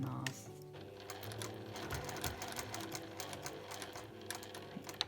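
A sewing machine backstitches a seam on a shoulder bag with a quick, steady mechanical chatter and rapid needle taps, fairly close and soft overall.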